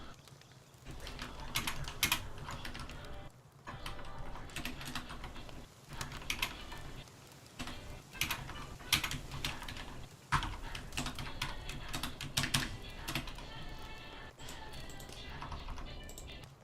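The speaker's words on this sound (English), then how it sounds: "Something is stuck on my keyboard." Typing on a computer keyboard with a stuck key: close, dense clatter of keystrokes in uneven bursts with brief pauses, running steadily throughout.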